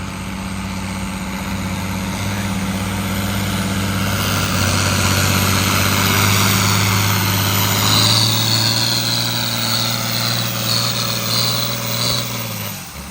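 A John Deere 4000 tractor in the Light Limited Super Stock class at the Cuba City tractor pull roars steadily under load, its engine note climbing and holding, loud and close for the whole stretch with no talking.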